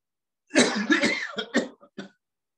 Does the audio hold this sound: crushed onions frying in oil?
no